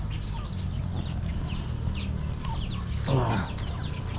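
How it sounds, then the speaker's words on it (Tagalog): Chickens cluck around a brood of newly hatched chicks in a farmyard, steady soft clucking with faint high peeps throughout and a louder, closer squawk near the end, no talking. "Dami nating sisiw, grabe."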